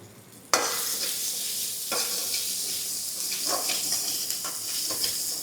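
Ginger garlic paste sizzles steadily in a hot pan while being stirred for dal fry, with a sharp start and repeated scraping strokes over a constant frying hiss.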